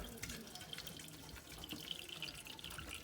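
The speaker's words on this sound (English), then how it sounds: "we're gonna strain it, the grease out into here" Hot grease from cooked hamburger strained out of a pan into a container, a continuous close liquid pour with trickling and splashing throughout, no talk.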